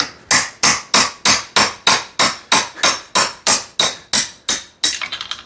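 Steady, evenly spaced hammer blows drive a punch against the drive pin of a Brunswick GSX pinsetter universal drive assembly, about fourteen sharp metallic strikes close up, ending with a rattling hit.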